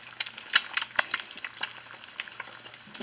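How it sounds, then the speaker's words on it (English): Eggs fry over easy in a pan of mustard seed cooking oil, with a close, busy crackle and sharp spitting pops over a low, steady sizzle. "so you won't sit there and watch me fry eggs"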